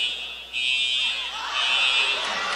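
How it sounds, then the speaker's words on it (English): Fire alarm sounding in the Jones Center basketball arena during a UNC Pembroke men's game against North Georgia: a continuous, loud, piercing electronic tone that holds steady throughout, with faint crowd murmur beneath. "the fire alarm has went off here in the English E. Jones Center"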